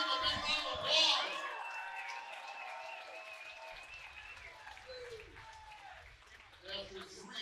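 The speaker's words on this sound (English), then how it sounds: "Let's give him a big round of applause." Crowd applause and cheering at an amateur fight championship event after a bout, loud at first with a sharp shout, then thinning into lighter scattered clapping under an announcer's voice and arena murmur.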